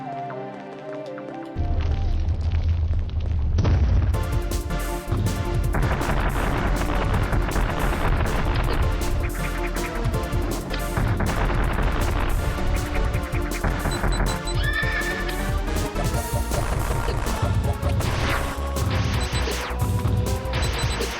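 Loud, dense bursts of explosions from bombs in an alien-planet video game, a continuous barrage of booms and crashes that layers over itself for around twenty seconds.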